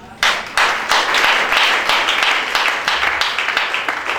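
A church congregation claps and applauds together in a dense, sustained burst of many hands that starts abruptly and keeps going, with faint voices mixed in.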